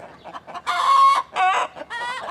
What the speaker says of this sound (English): the chickens are all going off, so you might have to put up with a little bit of chicken noise